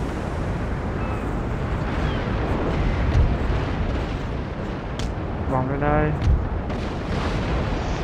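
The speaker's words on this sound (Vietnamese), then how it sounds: "Lo đạn pháo." Booming artillery shell fire in the Napoleon Total War video game, a rumbling battlefield wash with a few heavier bursts, under a voice speaking briefly in the middle.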